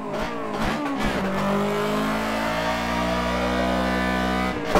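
A 1.8-litre car engine revs steadily in a racing video game on the Tsukuba circuit, a loud, continuous mid-pitched drone with rising and falling pitch and a brief throttle lift near the start, with no voices.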